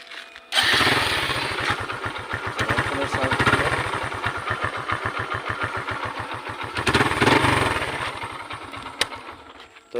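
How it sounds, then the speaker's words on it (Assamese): Motorcycle engine idling in neutral: a steady, close, loud putter of rapid even pulses that starts abruptly and runs without a break, swelling slightly at moments. "তো গাইজ আপোনালোকক মই বাইকখনৰ চাউণ্ডটো শুনাই দি আছোঁ।"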